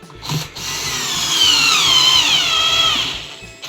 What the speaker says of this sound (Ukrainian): Я беру спочатку скільки тягну, скільки тягне шуруповерт.